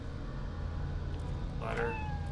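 A cat meows once in the video game Lost Odyssey, a short rising-then-falling cry standing out over a low steady game background.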